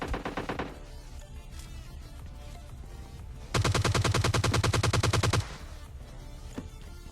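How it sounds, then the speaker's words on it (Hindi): Gunfire in the mobile shooter PUBG Lite crackles in short bursts, with a brief volley at first, scattered distant shots, then a loud sustained automatic burst lasting a couple of seconds before fading to sporadic shots. "सामने से ऑलरेडी कुछ गन साउंड्स वगैरह आ रहे थे मेरे को, और यहाँ पर दो स्क्वाड के बीच में फाइट वगैरह भी चल रही थी"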